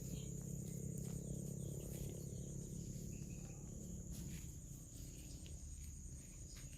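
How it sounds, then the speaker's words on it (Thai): Crickets chirp in a large, leafy garden with papaya trees: a steady, faint, high-pitched trill runs continuously over a low background hum, with no voices. "จะได้ยินเสียงจิ้งหรีดร้องด้วย"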